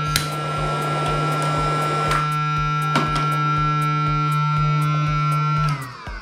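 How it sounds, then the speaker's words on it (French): A small electric pump for smoking a Manhattan cocktail runs with a steady mechanical hum and a rapid pulsing buzz, close and constant, then cuts off near the end. "on vient allumer ici, on vient brancher la petite pompe"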